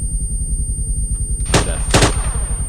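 Arma 3 gunfire: two sharp, loud bursts in quick succession after a stretch of low rumbling background.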